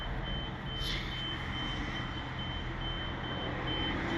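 Hyundai tow truck sounding repeated reversing beeps, a thin steady series of pips over a low rumbling engine and street background, heard at a moderate distance with no talking.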